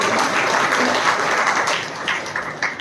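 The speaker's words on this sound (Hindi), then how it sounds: "जोरदार ताली।" Loud, sustained applause from a crowd at a Christian prayer gathering, dense clapping filling the whole stretch and thinning slightly toward the end.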